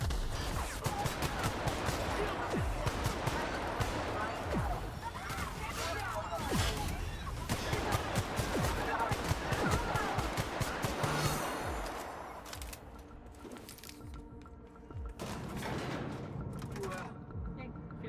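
Gunfire in the sci-fi video game The Outer Worlds, a dense run of rapid loud shots and bursts for most of the stretch, easing into scattered quieter shots and game ambience near the end, with a voice talking over it.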